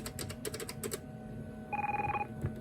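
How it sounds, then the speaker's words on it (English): An ISDN telephone rings once as it is called from an analog phone, a short electronic double-tone ring standing out over a quiet room with faint tapping before it. "So let's first call it from the analog phone."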